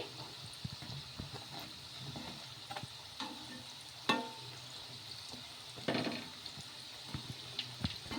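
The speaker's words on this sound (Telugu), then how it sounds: "ఇలాగే గోల్డెన్ కలర్ వచ్చే వరకు ఫ్రై చేసేసుకోవాలి" Snacks fry in hot oil with a soft, continuous sizzle and bubbling, broken by occasional scraping and stirring knocks from a utensil at close range.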